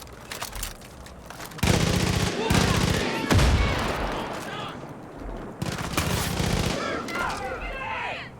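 Gunfire bursts from the video game Far Cry 5, rapid rattling shots and booms in dense clusters, loud and close over a noisy game soundtrack.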